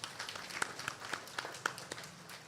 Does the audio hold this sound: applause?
yes